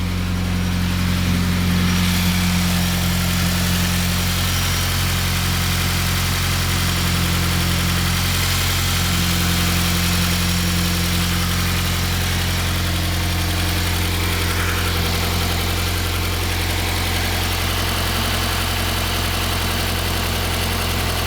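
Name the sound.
2015 Subaru WRX engine idling after Grimmspeed J-pipe install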